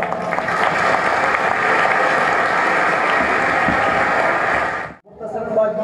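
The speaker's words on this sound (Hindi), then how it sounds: "सबकी भरपूर तालियों में जनाब कादिर खान मंदुखेल साहब" An audience at a candidates' forum applauds a political candidate, Qadir Khan Mandokhel: dense, steady clapping for about five seconds that stops abruptly, then a brief burst of noise.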